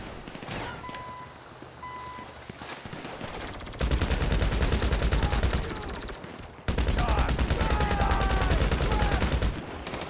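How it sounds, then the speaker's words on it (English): Combat MG machine gun firing in GTA Online, long sustained bursts of rapid automatic fire, loud and close, broken by a short pause, with beeping and game noise around it. "That combat MG is so much more effective than the gun."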